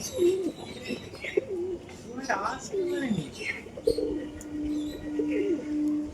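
A Madras pigeon cooing nearby, its low repeated coos rising and falling over steady outdoor background noise, with a longer sustained coo toward the end.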